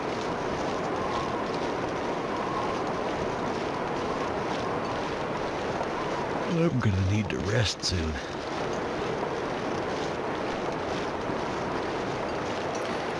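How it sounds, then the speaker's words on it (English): Wind blows steadily across a snowy wilderness in The Long Dark, a broad, constant rushing hiss that fills the background. Someone talks briefly over it midway. "-13 with the wind. Yeah, it's the wind."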